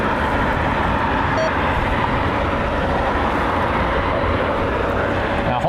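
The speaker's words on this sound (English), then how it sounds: "Probably a fully loaded 738. I would imagine they're going to take more runway than a Dreamliner." United Boeing 737-800 airliner taking off, a loud broad jet engine roar held steady throughout, with faint voices mixed in.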